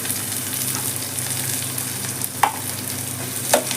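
Cumin seeds sizzle and crackle in hot oil for garlic rice, a steady dense frying hiss with a couple of sharper pops near the end, close and alone with no talk.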